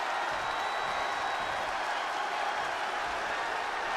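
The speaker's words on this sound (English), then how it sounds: "Just listen to this crowd." A wrestling crowd cheers and roars in an arena, a dense, steady wall of noise with applause and a whistle, loud throughout.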